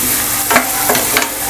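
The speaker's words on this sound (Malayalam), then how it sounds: "നന്നായിട്ടൊന്ന് ഇളക്കി കൊടുക്കാം. സവാളയുടെ കളറൊന്ന് മാറി വരണം." Chopped onion sizzles in a pan while being stirred, a steady close frying hiss with three quick scraping strokes of the spoon.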